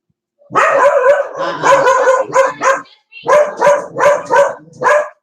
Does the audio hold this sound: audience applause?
no